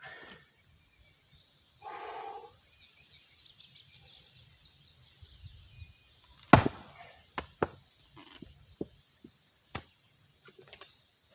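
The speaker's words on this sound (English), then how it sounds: "So now I'm going to angle my axe. I was chopping pretty much upright on that one." Axe blade chopping into wood outdoors, struck at an angle: a run of sharp, distinct thwacks arriving irregularly, the first loud and close, later ones a bit softer, with faint birdsong and rustling in the background.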